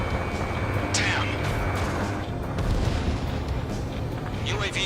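A booming rocket explosion in Ace Combat 7 sits in a dense roar of jet and combat noise, with brief whooshing sweeps on top and voices talking over it.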